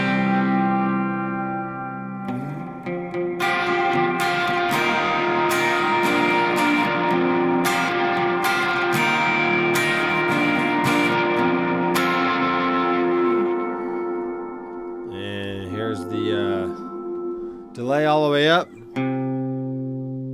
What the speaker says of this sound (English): You hear the reverb coming in after the note